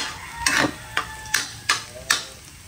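Garlic sautéed in a pan, a few sharp stirring scrapes and light sizzle bursts spaced about half a second apart, close up with no talking.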